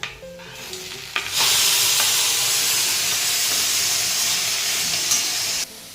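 Tomatoes tipped into a pan of hot, lightly browned onions in oil, setting off a loud, steady sizzle and hiss of frying that holds evenly for several seconds after a brief clatter at the start.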